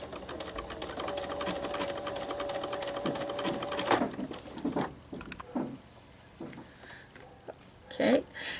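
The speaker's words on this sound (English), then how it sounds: "So I'm going to stitch, and it's just barely catching." A sewing machine stitches a blind hem zigzag with a blind hem foot, running in a fast steady mechanical whir for about four seconds, then stopping, followed by scattered quieter handling clicks and rustles.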